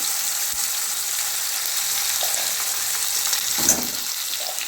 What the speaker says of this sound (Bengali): দেখুন কুমড়োগুলো একটু ভাজা ভাজা হয়ে গেছে